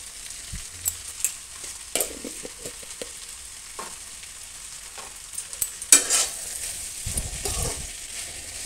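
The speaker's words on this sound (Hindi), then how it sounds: "अब इसको हम 4 से 5 मिनट तक पकाएंगे।" A mixed mung and moth bean vegetable cooks in a pan with spices. A faint, low sizzle sits under scattered spoon scrapes and clinks, with a slightly louder stir late on.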